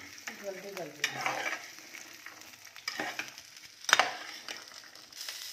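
Chopped carrots and tomatoes fry in a pan for a carrot and fenugreek sabzi. The sizzle is close and steady, broken by a few louder stirring scrapes.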